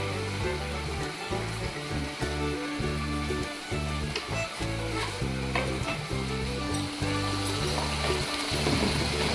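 Spices with potato and panch phoron fry in a pan while cooking ghugni in Kolkata, a continuous loud sizzle with stirring, under steady background music.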